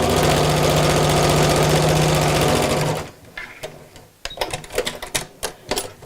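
A sewing machine stitching along the edge of a pocket runs in a loud, steady whir for about three seconds, then stops, leaving soft handling clicks and rustles.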